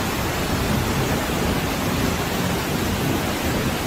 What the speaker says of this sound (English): with strong winds, heavy rain,